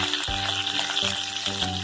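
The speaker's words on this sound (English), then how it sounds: "Add the whole spices in the hot oil." Bay leaf and whole spices fry in hot oil for mutton kofta curry, a close, continuous sizzle with a few soft bumps and clinks of a spoon or pan.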